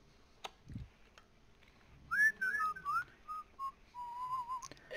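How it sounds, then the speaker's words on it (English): Someone whistles a short wavering tune over game voice chat during a Rainbow Six Siege match, a few sliding notes then a held pitch, faint clicks before it, no speech. "We don't do whistling."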